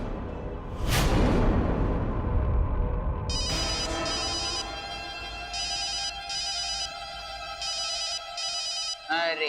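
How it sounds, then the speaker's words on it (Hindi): An incoming call sets off a mobile phone ringtone in a Hindi TV serial scene, with a series of bright repeating melodic bursts after a loud whoosh and background music. "जिया फोन कर रही है तुम्हें"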